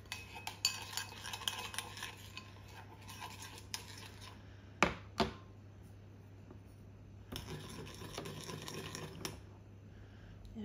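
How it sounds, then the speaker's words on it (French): A spoon scrapes and clinks in a pan while stirring a dish seasoned with herbes de Provence and sweet paprika, coming in quiet bursts with short pauses and two sharper knocks midway. "on mélange."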